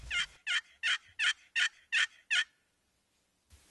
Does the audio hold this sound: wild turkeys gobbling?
yes